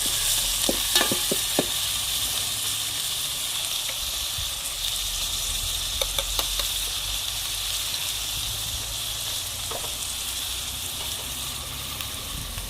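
Spice masala fries steadily in a pan for Kolhapuri-style goat leg bhaji, with a constant close sizzle and occasional sharp clicks of a spoon stirring.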